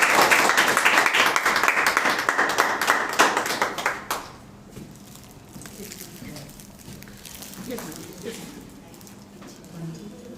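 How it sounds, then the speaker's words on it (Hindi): An audience claps loudly and steadily at a Hindi book and magazine launch event, a dense wash of hands that stops sharply around four seconds, followed by quiet hall ambience with faint voices. "ताली थोड़ी जोर की बजनी चाहिए।"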